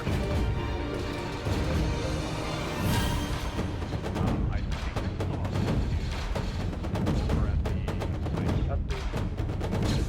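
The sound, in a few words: blaster fire exchange in Arma 3 video game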